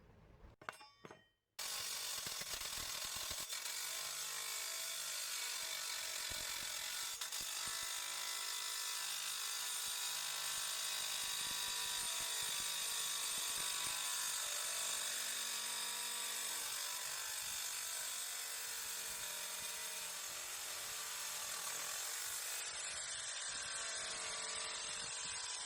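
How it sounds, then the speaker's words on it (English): A power drill whines continuously and loudly for about twenty seconds, biting into metal with a steady grinding hum after a brief quiet start. "I am drilling this right here down the piece of metal"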